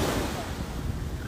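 Beach surf and wind roar together, a steady, loud wash with buffeting microphone wind noise and no clear voices.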